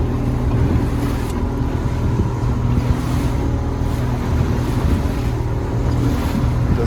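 A 2013 Wahoo boat runs on open water, its engine droning loud and steady under rushing wind and hull splash, constant and close throughout.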